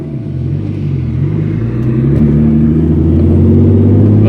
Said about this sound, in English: the downshifting is really nice too